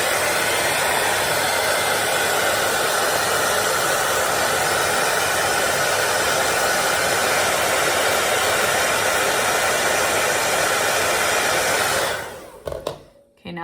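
A hot-air tool blows loudly and steadily while heating a Halloween decor piece, a continuous rushing whir that holds for about twelve seconds and then cuts off, leaving brief faint handling sounds.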